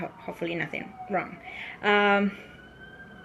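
An ambulance siren sounds in a brief wail as it passes, rising above a person talking nervously nearby.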